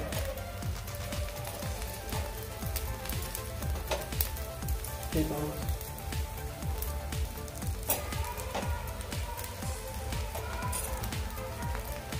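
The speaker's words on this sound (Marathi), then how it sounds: "आता दुसऱ्या साइडने आपण हे बांगडे भाजून घेऊया।" Mackerel (bangda) fish pan-roasting on its second side, giving a steady, close, continuous sizzle with small crackles and pops throughout, no talking.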